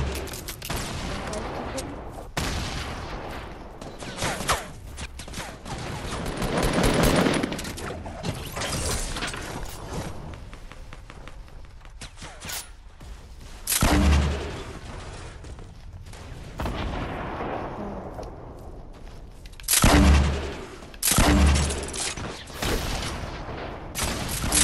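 Fortnite gunfire crackles in repeated bursts over a busy game soundscape, with the loudest volleys punching through near the middle and again close to the end.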